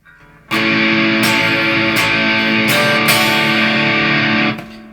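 Heavily distorted electric guitar chords strummed in a steady rhythm, playing the rhythm part of a song, loud and sustained, with sharp attacks on each new strum before ringing out.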